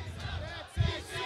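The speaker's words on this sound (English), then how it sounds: "we are getting ECW chants here from the crowd" Wrestling crowd at a hardcore rules match chanting ECW, a loud rhythmic swell of many voices rising near the end of the burst.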